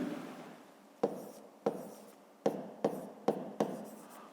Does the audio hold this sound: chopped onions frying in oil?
no